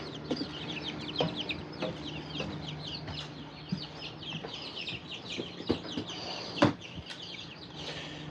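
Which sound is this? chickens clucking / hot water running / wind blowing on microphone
chickens clucking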